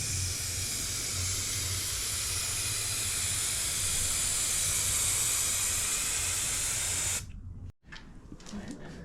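An aerosol can of etch primer sprays a steady, loud hiss onto aluminium and galvanised steel for a solar roof rack on a Ford Transit camper conversion, then cuts off abruptly near the end, leaving quiet handling noise.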